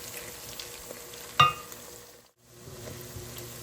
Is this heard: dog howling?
no